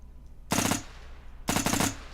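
Rifle fire in the shooter game Burst, two loud rapid automatic bursts of about a quarter second and half a second, separated by a short pause, with no talking.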